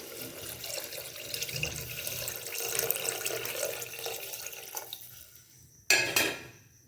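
Water runs steadily from a tap, a continuous rushing hiss, then cuts off, followed by a brief sharp splash or clatter near the end.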